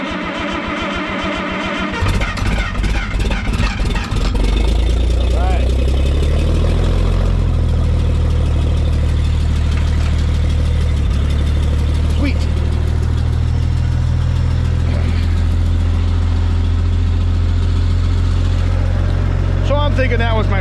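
A firewood-season engine, likely a truck suspected of a weak battery or alternator, catches with a rough stutter, then settles into a steady loud idle under light throttle, running continuously with a low droning rumble.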